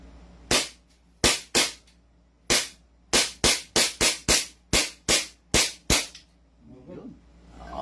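A Tokyo Marui Hi-Capa 5.1 T-Rex airsoft pistol fires twelve sharp, loud cracks in an uneven rapid sequence, close by, with a brief voice after the last shot.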